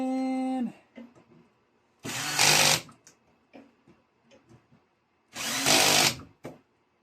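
A power drill tightens a full-motion ceiling TV mount in two loud whirring bursts of about a second each, separated by quieter clicks and handling noises.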